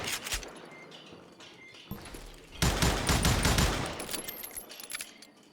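Video game gunfire with heavy muzzle blast from a six-gun in a Western bounty hunter game: a couple of isolated sharp shots early on, then a loud, dense volley of rapid shots that rings out and slowly fades.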